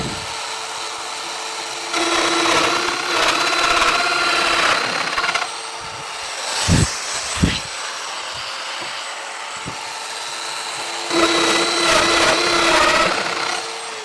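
A Festool Domino EQ 700 joiner cuts mortises into wood, a steady motor whine in three bursts separated by a quieter stretch with a few sharp knocks, close and loud.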